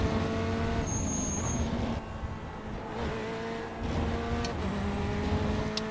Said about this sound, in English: I don't like the sound of this car either.